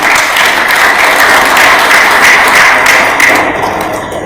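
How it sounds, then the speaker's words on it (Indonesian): An audience at a civil-servant learning festival in Pamekasan applauds a best employee. The clapping is loud and continuous, a thick crowd texture that stays level before easing slightly near the end. "Tepuk tangan untuk panjenengan."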